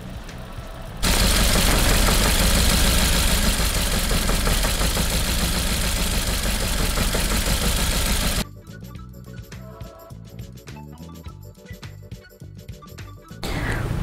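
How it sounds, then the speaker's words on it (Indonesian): A Suzuki R3 car engine idles unstably in a workshop, giving a loud, rough, steady rumble for several seconds that suddenly drops to a quieter, uneven running sound with intermittent knocks. "Ini mengalami satu gangguan di mana putaran stasioner dari mesinnya itu tidak stabil."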